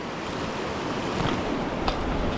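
Fast water on the River Tay rushes in a dense, steady broadband roar, with a brief brighter splash near the end and no voices over it.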